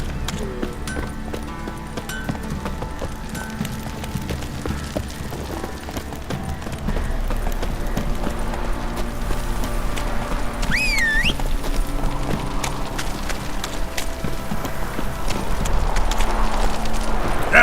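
Roach, a horse in The Witcher 3, gallops with fast, loud hoofbeats that pick up and grow denser midway, over continuous game ambience and a brief whinny.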